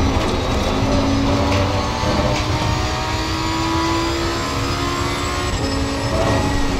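A high-revving naturally aspirated V10 GT2 race car engine in Assetto Corsa Competizione drones steadily throughout, its pitch shifting slightly as it climbs and holds, loud and close with no talking.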